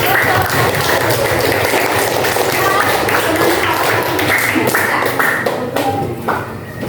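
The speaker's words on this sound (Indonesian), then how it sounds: "Kita beri tepuk tangan yang meriah." A classroom of students claps together for group one, a brisk, continuous patter of many hands that thins slightly toward the end, with some voices mixed in.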